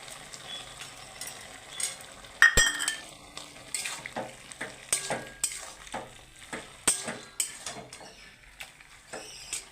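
Bottle gourd greens frying in a pan for a vegetarian poppy-seed dish, stirred with a utensil: a soft continuous sizzle under repeated rhythmic scrapes and clinks against the pan, one sharper knock early on, with no voices.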